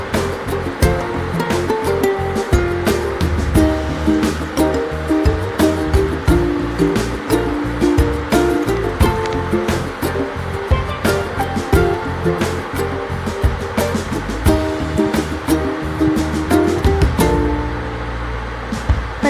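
Homemade herbal hair oil sizzles and crackles as it heats in a pan, a dense, continuous stream of sharp pops and spitting bursts close up, with no talk.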